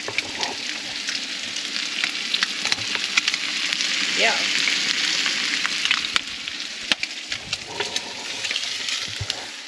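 Bacon sizzles and crackles in a pan for bacon and egg muffins at a Murray River campsite, a loud steady frying hiss with scattered pops and a brief spoken word.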